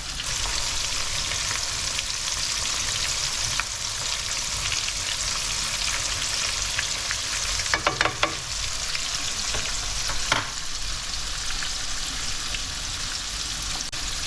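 Flour-coated bluefin tuna fries in hot oil, a steady dense sizzle and crackle running throughout, with a few brief scraping clicks near the middle.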